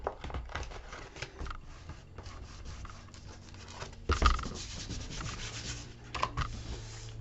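Paper is burnished onto chipboard for an album cover, giving close, steady rubbing and scraping strokes with a couple of sharper knocks, and no voices.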